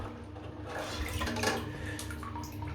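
A small 3D printed model airplane sloshes and splashes in bath water, with a faint close trickle and swirl that swells briefly at the middle.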